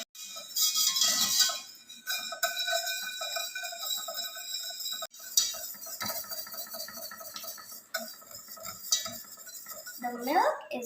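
A metal utensil stirs milk heating in a pot, giving repeated clinks and scraping against the pan in irregular bursts, close and clear with short pauses.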